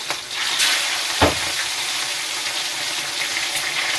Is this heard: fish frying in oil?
yes